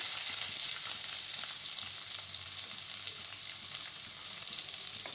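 Steady, loud sizzling of a chopped medium onion frying in hot oil over medium flame, a continuous crackling hiss with no talking.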